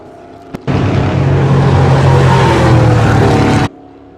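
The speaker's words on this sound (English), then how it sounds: "this is the pace car on the track" A NASCAR pace car passes loud and close on a race track, its engine a steady roar that starts abruptly, holds for about three seconds, then cuts off, with no talk over it.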